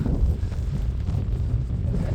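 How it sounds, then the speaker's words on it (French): Wind rushes over open, flat ground on Fuerteventura in the Canary Islands, a steady low rumble buffeting the microphone at a constant level with slight fluctuations and no voices. "Il y a du vent."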